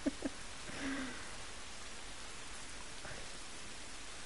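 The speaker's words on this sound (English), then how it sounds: "I guess I can't hear right now because of the rain" Steady rain falls in the video game The Last of Us, a continuous soft hiss of drops on surfaces. It is moderately loud and even, with a couple of faint clicks at the start.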